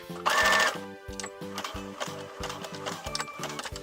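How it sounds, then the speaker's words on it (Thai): A sewing machine runs a zigzag stitch on a fabric scrunchie in short rapid mechanical bursts with a rhythmic chugging, close and clear. "เดี๋ยวเราจะใช้ตะเข็บซิกแซกเย็บ 2 อันนี้ติดกันค่ะ"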